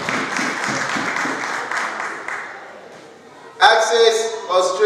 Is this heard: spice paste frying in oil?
no